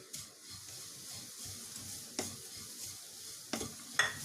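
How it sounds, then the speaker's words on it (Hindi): Jaggery powder being stirred into ragi chivda in a pan, a soft repeated scraping and rustling with a few sharper clinks of the spoon against the metal near the end, close and fairly quiet. "अब मैं इसमें ये जो गुड़ पाउडर लिया था मैंने वो मिक्स कर दूंगी"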